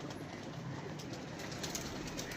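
Soft pigeon cooing and bird calls over a steady, noisy outdoor background, fairly faint and continuous throughout.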